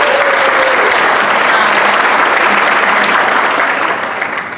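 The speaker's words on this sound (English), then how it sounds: "can we give our panelists a big round of applause?" A loud, dense round of applause for panelists at a college forum night for parents and students, sustained and even before tapering off slightly at the end.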